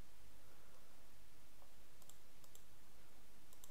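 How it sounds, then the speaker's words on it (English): Typing a site name on a computer keyboard for a novelty and gifts ecommerce website, a few faint, sparse key clicks over quiet background hiss. "Type any name about the novelty and gifts business"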